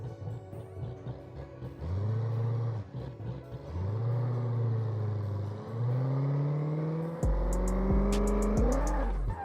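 A rebuilt 1100-horsepower Cummins diesel truck revs hard in a long sustained burnout, engine tone climbing and holding loud and close, with a few sharp clicks and bangs near the end.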